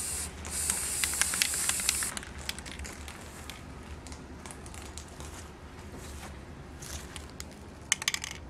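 A can of spray paint hisses in one close burst of about two seconds onto a football-themed TV tray table, followed by quieter rustling and scattered small clicks.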